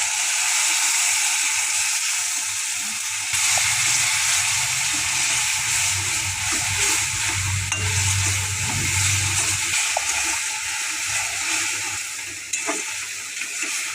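Mustard paste goes into a pan of frying rohu fish and eggplant with dried chili, chopped onion, ginger and green chili paste, giving a close, loud, continuous sizzle with occasional stirring and a bubbling surge partway through.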